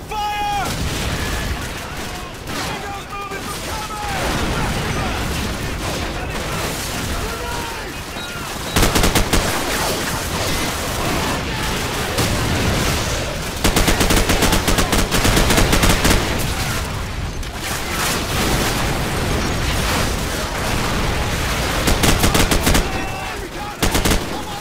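Sustained automatic gunfire laying down suppressing fire in the Call of Duty 4: Modern Warfare campaign, dense bursts with booms running throughout, shouted game dialogue mixed in.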